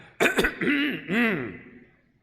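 A voice imitates an elder's warning throat-clearing cough: a sharp cough burst followed by two drawn-out, wavering throat-clearing groans, close and fairly loud, with no other talk.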